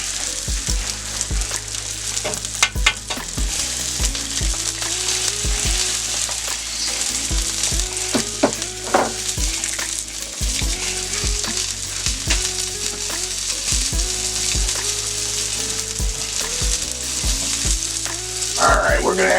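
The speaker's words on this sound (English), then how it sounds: "I'm just doing good old fried eggs" Two eggs hard-frying in a pan on a Steelmade griddle setup, a steady loud sizzle with crackle throughout, broken by repeated sharp metallic taps of a spatula or utensil scraping and clinking against the cooking surface.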